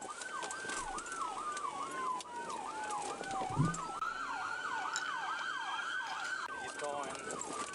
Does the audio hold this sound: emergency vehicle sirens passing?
yes